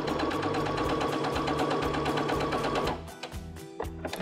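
A Baby Lock Jubilant sewing machine stitches a quarter inch seam through pieced fabric with a steady, fast mechanical whir close by, then slows to a few separate thumping stitches near the end.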